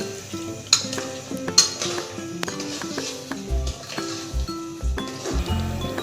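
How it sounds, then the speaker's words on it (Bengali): Meat being stirred and fried in a pan over a small gas burner, with a soft sizzle under repeated scraping and clanking of a utensil against the pan, close and fairly loud. "মাংস দিয়ে দেওয়া হয়েছে, এবার এইভাবে এই যে কষে দিচ্ছি।"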